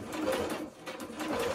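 A sewing machine stitches a dress shirt collar at a stitch length of about 2.6, with a close, steady whirring hum that dips briefly midway before resuming.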